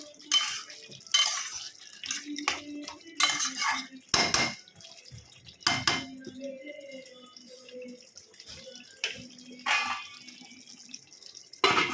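Mutton curry is stirred in a metal cooking pot, with a series of sharp clanks and scrapes of a utensil against the pot, irregular and close, between quieter moments and faint sizzling.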